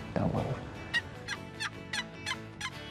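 A wild turkey gobbles in open Kansas country during a hunt, a rapid warbling call followed by a series of shorter repeated bursts at moderate distance over outdoor background noise.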